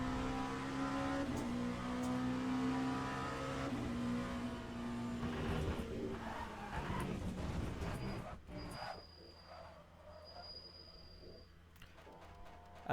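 Race car in Le Mans Ultimate building speed, a loud engine roar with climbing pitch and shifts for about eight seconds, then dropping off to a quiet idle with faint high whines.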